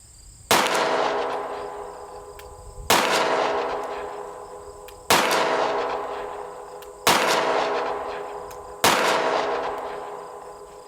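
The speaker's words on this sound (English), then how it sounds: "I have the P365 first, and we're going to be shooting a 124 grain full metal jacket round from Fiocchi." Five loud pistol shots from a SIG P365 firing Fiocchi 124 grain full metal jacket rounds over a chronograph, spaced about two seconds apart, each a sharp crack with a long ringing decay and no talking.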